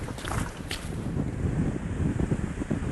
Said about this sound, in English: It is super windy and chilly.